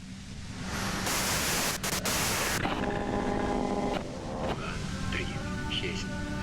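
Harsh broadband white-noise static from a video game, loud and continuous, cutting off abruptly partway through and giving way to a tonal hum with faint background sounds.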